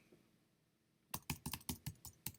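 Rapid bursts of keystrokes on a computer keyboard start after a second of near silence, close and fairly crisp, with uneven clacking rhythm and no voices.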